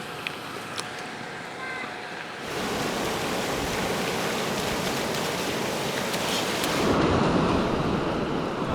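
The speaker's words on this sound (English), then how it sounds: "Just out the camper, I've got the creek running, Awinya Creek" Awinya Creek runs beside a beach campsite, giving a steady broadband rush of flowing water that swells louder partway through and stays continuous with no voices.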